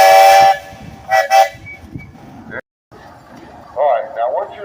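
A steam engine's whistle at a parade show gives a sharp, bright blast at the start, then short bursts follow amid crowd chatter and hissing steam, with people talking nearby.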